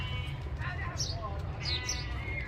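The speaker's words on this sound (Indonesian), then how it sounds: "Nah, bisa dilihat sendiri kambing domba." Sheep held as sacrificial livestock for Eid al-Adha in Tarim, Yemen, bleat a few times at moderate distance over a steady low background hum.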